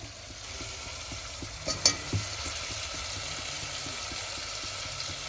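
Pomfret fish pieces drop into hot oil with chilli, setting off a steady close sizzle with a brief louder burst as they land, then continuous frying hiss.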